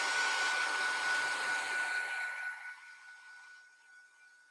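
Hair dryer blowing on a craft project coated with Distress spray, a close, loud rushing whoosh with a steady whine that gradually fades and thins out over about four seconds.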